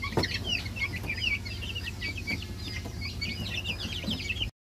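Heritage chicken chicks, including Brahma chicks, peep and cluck continuously in a brooder, a busy overlapping chorus of small high chirps close by with a low background hum.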